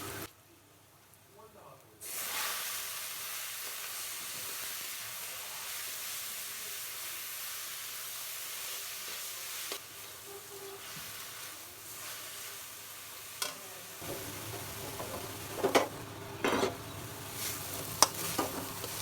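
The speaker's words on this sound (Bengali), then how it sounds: "এবার আমি শাকটা ঢেলে দিব।" Bethua greens sizzling loudly as they hit hot oil with fried onion and garlic in a pan, a steady broadband hiss with occasional stirring clatter near the end; no talking.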